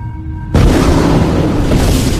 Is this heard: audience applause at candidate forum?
no